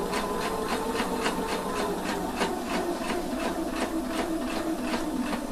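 Sewing machine stitching fabric along a lined slit, a steady mechanical whir with regular rhythmic needle taps, close and continuous with no talk.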